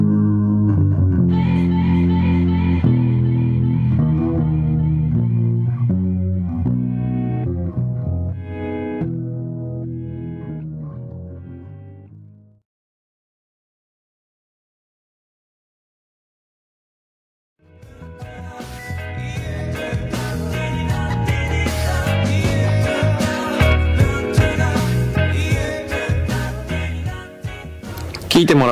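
A song from a band's second EP plays on radio, a full band with effects-laden, distorted textures, cutting out completely for about five seconds before resuming dense and loud.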